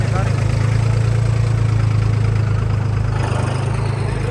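A tractor engine chugs steadily at idle at a village tractor fair, a low, even throbbing rumble close by with no pauses.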